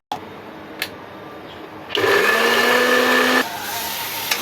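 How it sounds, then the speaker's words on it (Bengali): An electric mixer grinder starts up and whirs steadily for about a second and a half, grinding poppy seeds with a halved green chilli, then cuts off; a few faint knocks come before and after the motor run. "পোস্তটা বেটে নিচ্ছি আমি মিক্সির মধ্যে। একটা কাঁচা লঙ্কাকে দু টুকরো করে আমি পোস্তর সাথে বেটে নিচ্ছি।"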